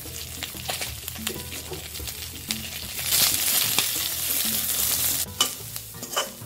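Chilies, curry leaves and sliced onions sizzle and spit in a pan for a Malaysian-style crab dry curry, with a steady frying hiss that surges louder midway and is broken by occasional stirring scrapes.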